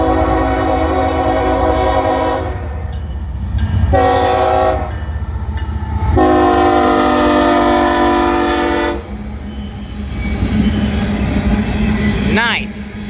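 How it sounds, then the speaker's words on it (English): A CSX freight train rumbles by at Kingston, Georgia, with a loud, long horn blaring in several blasts over steady rolling noise, close and continuous. "now to the trains from Kingston"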